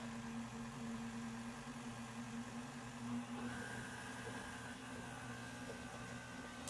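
A mixer runs on low speed blending chocolate banana bread batter, giving a quiet, steady motor hum that holds evenly from start to finish with no voices over it.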